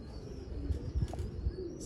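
Sialkoti Zeera pigeons coo softly in a steady low murmur with a few brief chirps, close by and fairly quiet, with no talking.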